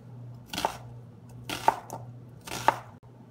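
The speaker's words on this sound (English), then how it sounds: "make slices that are about the same width as the slices of carrot" A knife slices vegetables for pickling on a cutting board, three evenly spaced crisp chops about a second apart, close and clear over faint room hum.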